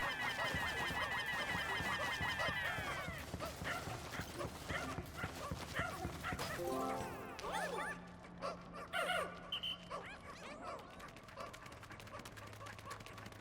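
In the Pikmin 4 video game, a dog yips and barks in short bursts over busy game music and effects, fairly quiet in the mix, with a voice briefly heard.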